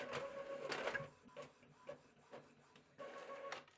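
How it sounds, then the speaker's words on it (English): An Epson ET-2803 inkjet printer prints a page, giving faint mechanical whirring and rubbing bursts, with brief pauses and clicks between feed movements. "The printer will receive my command, and in around 15 seconds, the print should come out."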